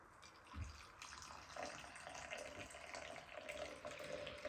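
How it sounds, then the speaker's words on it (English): Water runs from a tap to brew Gyokuro Nakatani green tea, a quiet, steady trickling splash with a soft clunk near the start, heard alone. "Put some water in."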